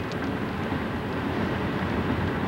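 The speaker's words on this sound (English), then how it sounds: "There go the choo-choo train." A train passes near the Colorado port of entry at Fort Collins, a steady broadband rumble with no breaks, heard from a moderate distance.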